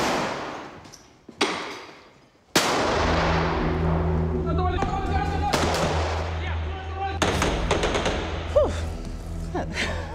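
Rapid bursts of gunfire, many rounds fired in quick succession, ring out loud and close after a brief sharp shot, with sustained echoing reports and clatter running for several seconds.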